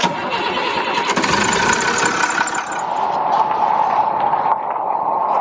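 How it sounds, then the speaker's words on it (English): A car engine cranks and starts during a cooling system repair, then settles into a steady, loud idle that runs throughout. "So I'm gonna start the engine"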